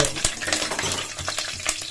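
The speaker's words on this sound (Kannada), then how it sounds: "ಈಗ ಎಣ್ಣೆ ಕಾದ ನಂತರ ತಗೊಂಡಿರುವಂತ ಕರ್ಬೇನ್ ಸೊಪ್ಪನ್ನು ಹಾಕೋತಾ ಇದ್ದೀನಿ" Curry leaves and dried red chili frying in hot oil, a steady close crackling sizzle with a few sharp pops and the scrape of stirring.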